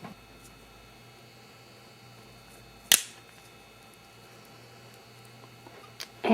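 Plastic snap being pressed off with a snap press between bolt and bottom die, giving one sharp close click midway and a softer one near the end against quiet room noise.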